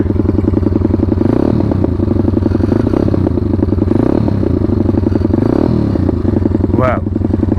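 A WPB 190 motorbike engine fitted with a new NIBBI carburettor idles steadily while warming up, a loud, close, continuous pulsing drone with rhythmic clattering and a brief metallic scrape near the end.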